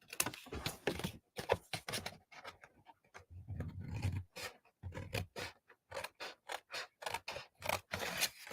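Card stock for a watercolor pear card being trimmed on a paper trimmer, a close series of dry cutting and scraping strokes in quick irregular bursts with short pauses between.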